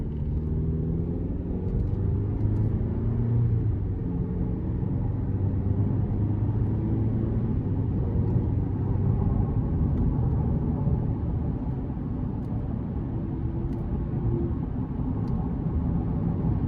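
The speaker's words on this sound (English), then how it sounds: "Now I'm gonna put it in low gear and see how it shifts." 2023 Chevrolet Colorado LT crew cab with the 2.7-liter turbo engine, dropped into low gear and downshifting, gives a steady, close cabin drone with low rumble and shifting engine tones, alone without talk.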